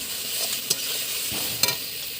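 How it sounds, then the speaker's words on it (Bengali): Chicken pieces go into a pot of well-fried spice paste for a village-style chicken curry, giving a steady close sizzle with a few sharp clinks and scrapes of stirring. "এখন মাংসগুলো দিয়ে দেব।"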